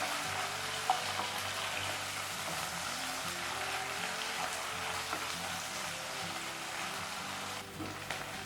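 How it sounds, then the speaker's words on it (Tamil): Sliced large onions sautéing in a pan for coriander chicken, a steady, soft hissing sizzle that runs throughout at moderate distance with little stirring. "வெங்காயம் நல்லா வதங்கட்டும்."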